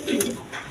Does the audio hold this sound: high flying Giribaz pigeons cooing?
yes